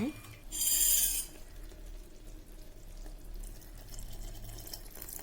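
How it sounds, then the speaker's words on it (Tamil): A brief gush of tamarind water pours into a pan of okra tamarind curry for about a second, then a soft, quiet bubbling simmer carries on. "நம்ம இப்போ புளி தண்ணி சேர்க்க போகிறோம்"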